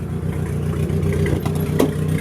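A 1986 Nissan 720 pickup with a turbocharged KA24DE engine and stock-sounding exhaust runs steadily with a low rumble and some clatter, close by and alone.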